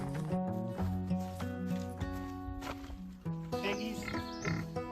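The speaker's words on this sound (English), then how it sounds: "So the first thing we've got to do this morning is get our pigs fed." Farm pigs grunt and squeal at morning feeding, a busy overlapping chorus of close snorts and tonal squeals, loud and continuous with rustling throughout.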